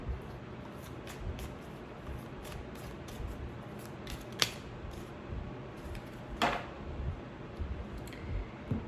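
Soft rustling and riffling of cards being shuffled, with a couple of sharper snaps, close by in an otherwise quiet room.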